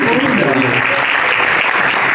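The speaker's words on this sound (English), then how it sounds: "So another round of applause for Bloomingdales." Applause for Bloomingdale's in a large store atrium at an evening show: a loud, continuous wash of clapping close by, with voices talking over it throughout.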